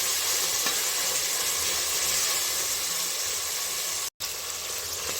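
Coriander leaves and tomato sautéing in a pan give off a steady, loud sizzle and hiss that runs unbroken, apart from a momentary silent gap near the end.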